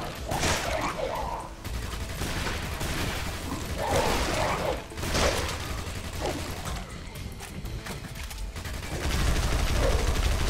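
Shotgun blasts ring out in the video game God Mode during a boss fight, several sharp bursts spread across a noisy, busy mix of game effects and rushing sounds, fairly loud and close.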